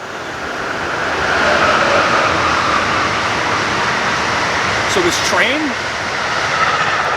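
A train on the main line in and out of Boston rumbles past nearby, a loud continuous roar with a brief high squeal or horn-like tone near the end and a single spoken word.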